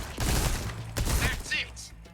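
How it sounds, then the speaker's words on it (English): A submachine gun fires in the Resident Evil 4 Remake shooting gallery, with a few rapid bursts of shots and mechanical clatter, loud and close, while a voice speaks partly under the gunfire. "Use a submachine gun if you want to make quick work"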